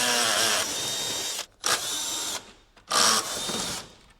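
A power drill backs bolts out of a panel on a 2020-or-later Can-Am Spyder RT, three loud whirring bursts close up with brief pauses between them and no talking.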